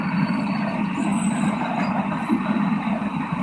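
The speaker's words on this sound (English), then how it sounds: "That's a real train." A real train rumbles steadily past behind a line of trees outdoors, a continuous broad low roar with faint wheel noise, moderately near and unbroken throughout, with no talk.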